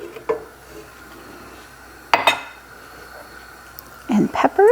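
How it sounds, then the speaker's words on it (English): Chopped celery and onions tip into a pot and get stirred, a few short scraping clatters and knocks of utensil on cookware spaced through a quiet kitchen. "we're going to pour them in gently and stir them as we go"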